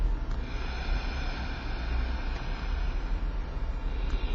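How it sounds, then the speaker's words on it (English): A long, steady ujjayi breath drawn in through the nose and a constricted throat, a soft hissing rasp that continues evenly for several seconds, close to the microphone. "we try to inhale through the nose and through the throat"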